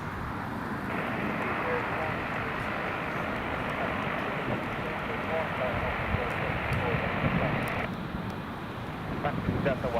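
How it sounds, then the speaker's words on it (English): A British Airways airliner taxis at Newcastle Airport on a windy day, a steady broad engine roar that holds for about ten seconds under gusting wind noise. "British Airways is just getting taxi."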